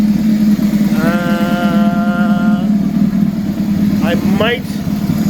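A motorcycle engine idles steadily just after carburetor synchronization, a loud, close, even drone running the whole time while someone talks over it.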